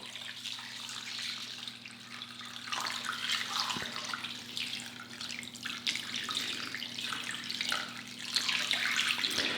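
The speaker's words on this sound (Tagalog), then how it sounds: "At ilalagay ko na yung tubig." Water pours and splashes steadily into a cooking pot holding pig ears and intestines, a continuous rushing stream over a low steady hum, with no talking.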